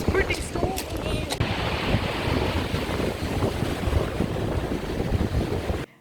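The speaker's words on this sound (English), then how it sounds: "we noticed the waves getting more treacherous as the wind picked up again" Stormy sea on a summer coast near Valencia, Spain: strong gusting wind roars against the microphone over breaking waves in a dense, continuous wash, with brief voices early on, then cutting out abruptly near the end.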